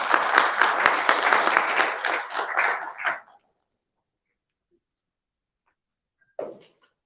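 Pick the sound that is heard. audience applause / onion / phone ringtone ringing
audience applause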